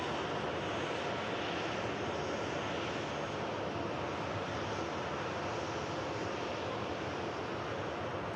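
An easyJet airliner at Manchester Airport, a steady broadband jet engine roar holding at constant level throughout, fairly distant and alone with no talk.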